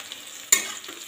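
Onions sizzle in a pan over a gas flame, a low steady frying hiss with one sharp stir-and-crackle burst midway, close and moderately loud.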